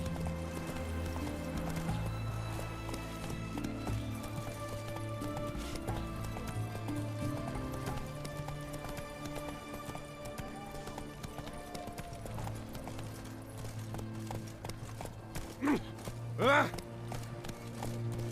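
Horse hooves clip-clop steadily through a medieval town in The Witcher 3, the rhythmic trot running under background music and ambient crowd chatter, with a brief whinny near the end.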